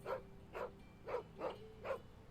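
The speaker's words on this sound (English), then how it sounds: "Can I pet the dog?" A dog in a video game barks in a steady series of about five evenly spaced woofs, moderately close and fairly quiet, with no speech over them.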